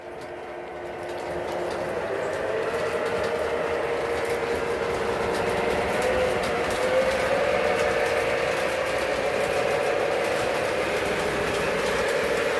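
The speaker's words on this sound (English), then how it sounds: "running another Alco. Doesn't sound like one though" Alco model train locomotive running steadily along its track, a continuous close rumbling hum with faint clicking, loud and unbroken for the whole stretch with no talk.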